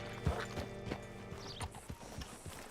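Horse hooves clip-clopping in Red Dead Redemption 2, a few irregular steps close by over a steady mechanical hum, with a brief snort or whinny-like sound and no talk.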